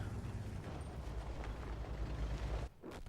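An artillery shell explosion in a tank video game, a loud, close, rumbling low blast sustained for over two seconds before cutting off abruptly, with no talk.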